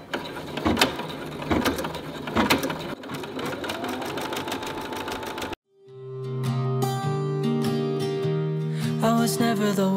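A sewing machine starts its first stitches with a rapid mechanical whirr and rhythmic ticking of needle and gears; partway through, the sound gives way to music.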